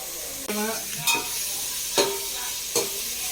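Tomatoes sautéing in a pan for coconut rice, a steady sizzle with several distinct stirring scrapes of a spoon against the pan at intervals.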